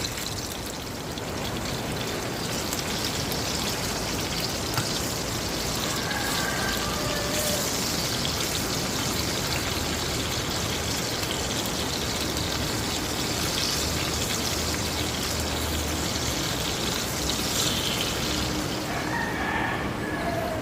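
Tocino frying in hot cooking oil, a continuous loud sizzle and crackle with popping spatter, steady throughout and heard alone at close range.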